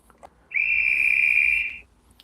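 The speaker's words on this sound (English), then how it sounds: "Guide's whistle and an announcement." A model railway guard's whistle gives one clear, steady high-pitched blast of about a second and a half, close and loud against a quiet background.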